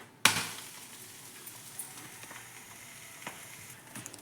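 An egg dosa fries on a pan, with a soft, steady sizzle broken by a sharp clatter near the start and a few faint scrapes and taps of stirring.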